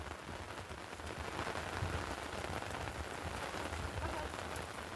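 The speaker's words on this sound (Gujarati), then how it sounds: "વરસાદ આવ્યો ને મસ્ત મસ્ત થઈ ગયું ઠંડુ ઠંડુ વાતાવરણ" Continuous rain pattering on a surface in Sukhpar, a soft, even wash of drops with no voices.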